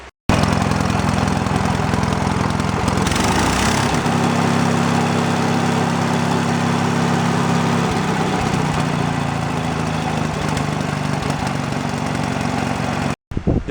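An old Wisconsin engine on a generator runs steadily on a trailer, a loud, close, rough droning idle that holds for several seconds with a slight shift in pitch partway through.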